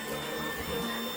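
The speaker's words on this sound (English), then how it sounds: "Our vacuum cleaner in real time is kind of moving around." A Trifo Lucy robot vacuum cleaner with mop function runs indoors with a steady, loud mechanical whir and fixed tonal hum, unbroken for the whole stretch with no talk.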